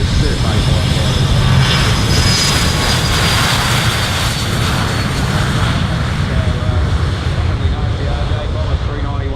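A C-130 Hercules and an RJ85 water bomber roar past at an airshow, a loud, continuous engine and propeller drone filling the whole stretch with broadband rumble and whine.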